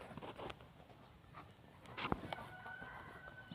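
Rural chickens with a rooster crowing in the distance, a faint crow and scattered clucks over a low background hum, with a short sharp knock near the end.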